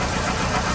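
A 2008 Hyundai 2.0 engine with a misfire runs steadily nearby, a continuous rough engine drone with a faint knocking texture throughout the short stretch.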